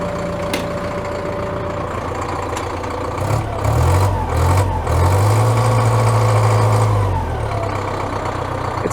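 The engine of a Caterpillar loader with low fuel pressure at idle, revived after sitting dead for over a year, runs at a steady rumbling idle with heavy low-pitched throbbing surges midway, fairly close and without speech.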